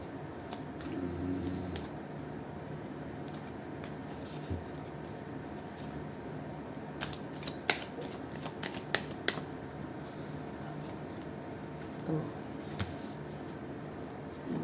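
Tarot cards being shuffled by hand, quiet soft riffling and scattered light taps and flicks close by over about fifteen seconds.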